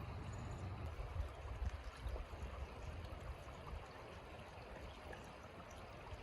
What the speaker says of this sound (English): the creek sounds really gentle and slow